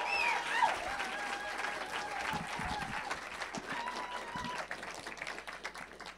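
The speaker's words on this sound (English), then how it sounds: "Clap for Cathy." An audience claps steadily, a dense patter of applause that holds throughout, with faint cheering and a voice briefly rising above it.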